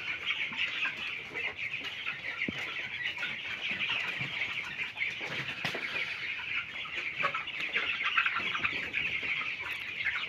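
Broiler chickens huddled in a poultry shed on a cold day keep up a dense, continuous chorus of clucking and chirping. The flock sounds close and steady, with no talk.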